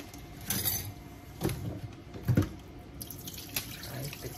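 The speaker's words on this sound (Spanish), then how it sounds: "Vamos a retirar esta agua." Water poured off washed raw chicken into a kitchen sink, heard as quiet splashes and trickles in a few irregular bursts with drips between, close and faint, with no talk.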